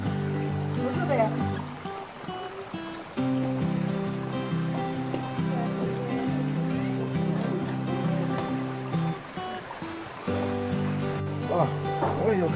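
Water rushing down a waterfall in a Tianshan mountain pasture in Xinjiang, a steady broadband roar that continues throughout beneath people talking nearby.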